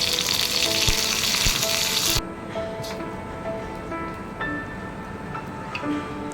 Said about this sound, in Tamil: ஒரு கடாயை அடுப்பில் வச்சு 1 தேக்கரண்டி கடலெண்ணெய் சேர்த்து கடுகு, உளுந்த பருப்பு, கருவேப்பிலை சேர்த்து தாளித்து